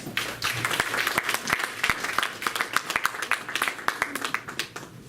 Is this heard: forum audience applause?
yes